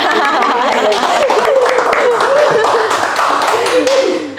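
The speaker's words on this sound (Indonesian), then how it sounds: "Ya tepuk tangan dulu boleh dah" A podcast audience claps in a crowded burst of applause mixed with chuckles and chatter, loud and sustained before tapering off near the end, with voices audible beneath.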